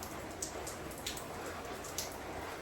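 Rain falling steadily outdoors, a soft constant patter with occasional sharper drips, close and fairly quiet, no voices.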